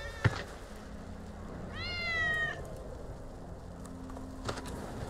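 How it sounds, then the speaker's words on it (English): A cat meows once in Final Fantasy 7 Remake, a clear wavering cry with stacked harmonics lasting under a second, heard close and alone over faint game ambience, with a sharp click just before it. "That's Wedge's cat."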